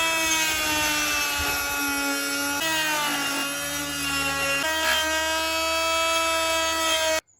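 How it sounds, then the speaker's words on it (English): A drill bores four shallow holes in the base plate of a vintage 1960s Veron Caribbean Coaster model boat, giving a steady, close, high whine whose pitch dips and shifts under load before cutting off abruptly at the end. "now I've got to drill 4 shallow holes where those bolt heads go"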